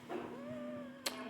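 A pet cat gives a single faint, drawn-out meow up close in a quiet indoor room, followed by a short sharp click.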